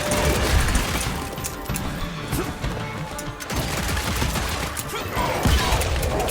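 Shotgun blasts in the Evil West video game, an Old West monster-hunting shooter, crash out amid dense, continuous combat noise with heavy low booms and impacts throughout.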